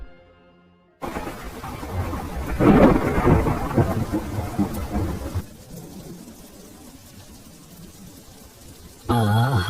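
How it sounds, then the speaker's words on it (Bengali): Heavy rain pouring with rumbling thunder in a Bengali cartoon, a dense roar that swells loudest in the middle, then eases to a steadier wash before a sudden burst at the end. "আবার সেই জাঁকিয়ে বৃষ্টি শুরু"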